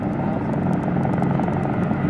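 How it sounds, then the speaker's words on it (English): A Martin Mars water bomber loading water during a 2003 forest fire at Okanagan Mountain Park gives a loud, steady engine and propeller drone, with a faint rapid pulsing beat above it and no talk. "Here's Martin Mars bomber loading."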